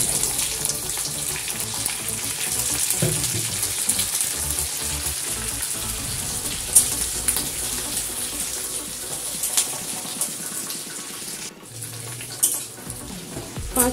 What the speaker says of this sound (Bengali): তারপর এগুলো সামান্য একটু ভাজবো, খুব বেশি ভাজবো না